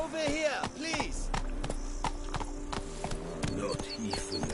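A horse's hooves clip-clopping in a PS4 video game, rapid rhythmic hoofbeats with a brief whinny, set against game ambience and voices speaking.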